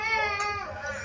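An infant cries in a continuous high, wavering wail beside a home kitchen where a tomato chaat is being made, close and fairly loud for about a second with a slight break near the end.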